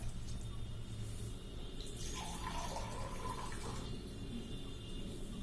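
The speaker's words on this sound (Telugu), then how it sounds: "ప్లేట్ మునిగేంత వరకు వాటర్ పోయాలన్నమాట" Water splashes and trickles into a steaming pan, poured until it covers a plate, a soft steady pouring sound that swells in the middle before settling, quiet and close.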